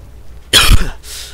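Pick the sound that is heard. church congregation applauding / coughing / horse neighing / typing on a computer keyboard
coughing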